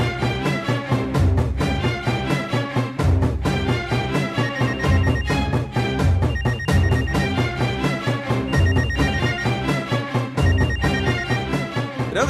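A telephone rings upstairs in a Tamil TV serial, with a repeated electronic ringtone melody cycling in regular bursts, loud and continuous with no talk over it.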